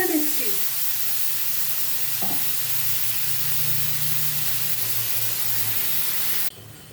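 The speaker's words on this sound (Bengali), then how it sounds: "এই তেলে আমার চিংড়ি মাছটা ভাজা হয়ে যাবে, তাই জন্য আমি ভেজে তুলে নিচ্ছি" Prawns frying in hot oil in a kadai for a jackfruit curry, a steady broadband sizzle running throughout and cutting off abruptly near the end, with a faint low hum underneath.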